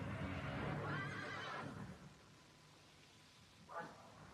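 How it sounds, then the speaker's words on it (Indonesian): A horse pulling a carriage gives a long, loud whinny as the carriage comes to a stop, then lets out a second, shorter neigh a couple of seconds later over quiet surroundings. "Iya, kereta kuda itu berhenti di muka rumahku."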